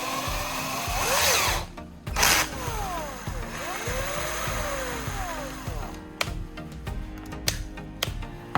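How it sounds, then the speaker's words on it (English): A power drill spins a homemade mixer made from an old wooden paintbrush handle and a plastic bottle body, giving a steady whirring motor drone with rising and falling pitch sweeps and a few sharp clicks and knocks near the end. "By attaching the wooden handle with the plastic bottle body to a drill, you can completely transform it into a highly convenient mixing tool."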